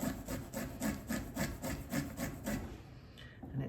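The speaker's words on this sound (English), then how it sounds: "I'm just going to grate up a little bit of garlic and grate up some ginger." Garlic and ginger rasping over a microplane in quick, regular back-and-forth strokes, about ten close scratchy passes in steady rhythm before trailing off.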